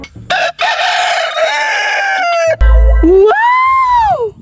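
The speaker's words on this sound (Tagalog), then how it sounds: "Naanay ning tuktugaok!" A rooster crows loudly and close by, two long rising-and-falling calls with a short thump between them.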